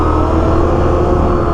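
A Can-Am Outlander 800R ATV engine drones loud and steady at high revs while sliding sideways, a continuous close-up roar with no pauses or speech.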